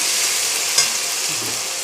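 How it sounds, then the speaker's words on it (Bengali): Onions frying in a pan, a steady close sizzle and hiss throughout with a single light tap of a utensil, no voices. "পেঁয়াজটা একটু ভাজা ভাজা হোক"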